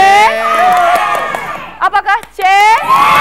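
Crowd at an Indonesian high-school quiz competition cheering loudly for a group, with shrill shouts and whoops rising and falling in waves and a voice speaking amid the noise.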